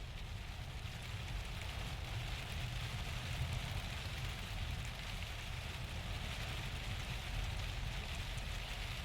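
Heavy rain downpour in the hills of south-eastern San Diego, a steady broadband wash of rain with low rumbling, constant and moderately loud, no talking.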